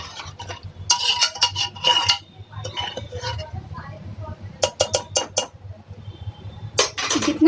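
A small ladle stirs sugar into a pot of dalia porridge, with repeated metallic clinks and scrapes against the pot in short irregular bursts, fairly close.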